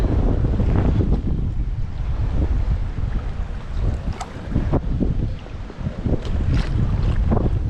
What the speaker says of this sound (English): the wind's blowing so hard it's blowing me the other way anyway